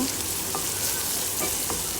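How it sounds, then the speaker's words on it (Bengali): Onions and green chilies frying lightly in a pan for a Bangladeshi prawn curry, a dense close sizzle with a few quick spatula stirs scraping through it, no speech. "কিছু পেঁয়াজ দিব কাঁচা মরিচ দিয়ে হালকা ভেজে নিব"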